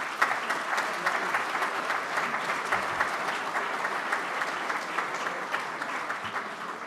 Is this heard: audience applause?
yes